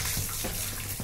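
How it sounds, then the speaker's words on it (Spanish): Hot water pouring from a tap for a toy doll, a steady close splashing flow that runs the whole brief moment. "voy a echar un poquito de agua caliente por aquí"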